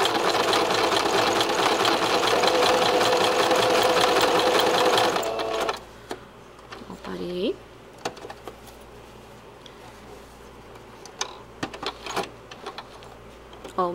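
A sewing machine stitches zigzag appliqué onto a cloth diaper in a loud, rapid, steady whir for about five seconds, then stops. Brief clicks and faint handling noises follow.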